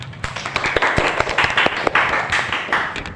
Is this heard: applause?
yes